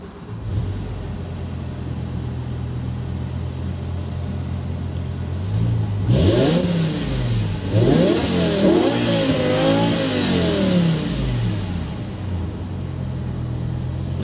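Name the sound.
car engine starting and revving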